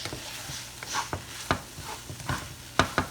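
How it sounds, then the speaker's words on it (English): Egg being stirred into a tomato curry in a pan, with a spoon scraping and knocking at irregular intervals over a soft, steady sizzle of cooking. "Now I'm going to mix and cook well"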